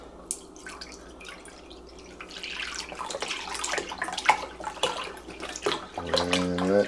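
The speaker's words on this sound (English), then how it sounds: "I'm going to pour that into the crock pot and mix that with our soup" Beef broth being poured from a freshly opened carton into a crock pot for Swedish meatball soup, a steady close liquid trickle and splash that swells louder toward the end, with no talking.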